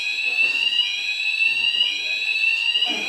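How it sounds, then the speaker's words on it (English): A fire alarm rings continuously with a shrill, steady electronic tone, loud and close, with faint faint murmuring underneath. "I'm hoping that's not the fire alarm."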